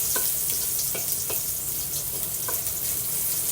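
Garlic frying in cooking oil for pork adobo gives a loud, steady close sizzle, dotted with a few light clicks from stirring.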